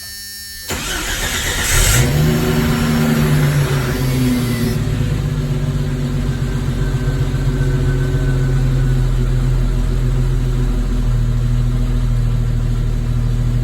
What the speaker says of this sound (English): So we're going to give the Jeep a quick start.